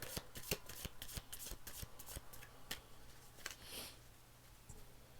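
Oracle card deck shuffled and a card drawn, giving a quick run of crisp, close riffling snaps and flicks, then softer handling of the cards, with no talking.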